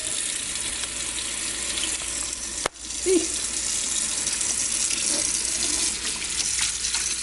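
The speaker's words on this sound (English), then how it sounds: "Then I turn on some water. And I just wash it, you know." Tap water runs steadily into a kitchen sink while beef ribs are washed, a constant close hiss of flowing water with a brief knock partway through.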